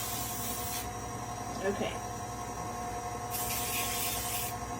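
Two bursts of hissing aerosol spray, each lasting a couple of seconds, with a brief rubbing sound between them and a short spoken word.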